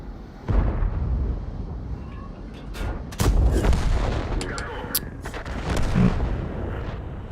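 Heavy booming blasts of high-explosive shell hits in World of Tanks strike several times over a steady rumbling battle background, loud and close.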